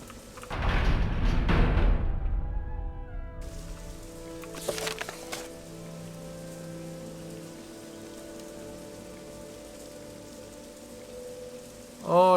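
Steady rain pattering on surfaces in the video game Morrowind, a heavier burst early on settling into a continuous soft wash, with no talk over it.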